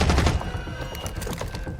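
Rapid gunfire bursts in the Rainbow Six Siege video game during a friendly-fire incident, dense punchy shots heavy at the start and continuing in a quick, loud volley.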